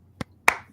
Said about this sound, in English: We're going to clap our hands, get right back into it.